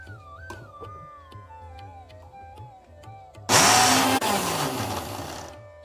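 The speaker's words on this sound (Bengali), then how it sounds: "এবার এটাকে আমি ব্লেন্ড করছি।" An electric blender whirs loudly as it blends mustard paste with rose water, starting abruptly after a few seconds of quiet clinking and running as a dense, steady roar until the end.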